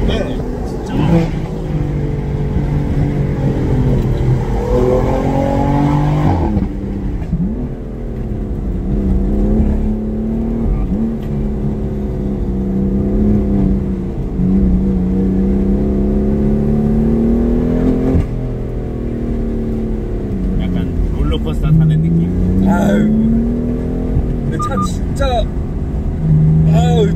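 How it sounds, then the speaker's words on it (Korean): A used BMW F82 M4 engine revs hard and holds a loud, throaty exhaust note, rising and falling in pitch over sustained stretches, with speech mixed in. "이 배기는 진짜 마음에 들어요."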